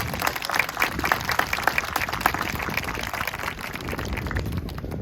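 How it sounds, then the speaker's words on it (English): Applause from an audience at a Habitat for Humanity gathering, honoring the board of directors: a dense, steady wash of clapping that holds at even loudness for several seconds, with no talk over it. "How about a round of applause for the board of directors?"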